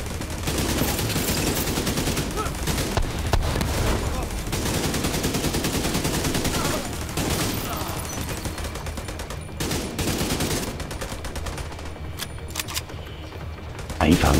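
Video-game gunfire in The Division 2, with dense bursts of automatic shots rattling steadily through the whole stretch, loud and continuous, while voices talk over the shooting now and then.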